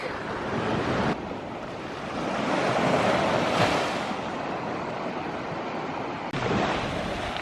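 Sea waves surging onto a shore beside a sea wall at high tide, a loud continuous rushing wash that swells and recedes, with wind buffeting the microphone and no talking.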